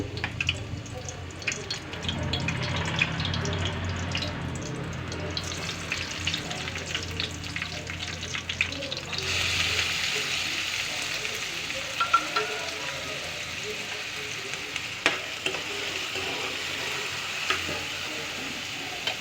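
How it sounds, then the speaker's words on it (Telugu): Green chillies and onions fry in hot oil for a potato and brinjal curry, a steady loud sizzle with occasional stirring scrapes, close and continuous without talk. "చూడండి ఆనియన్స్ వేగుతున్నాయి కదా"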